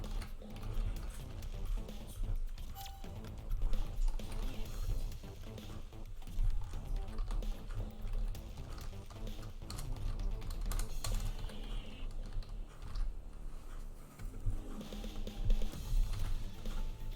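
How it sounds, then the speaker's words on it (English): Rapid clicking of computer keyboard keys continues through a long stretch. The bursts are dense and uneven, with short pauses, and are heard close to the microphone with no speech. "So I'm just typing now"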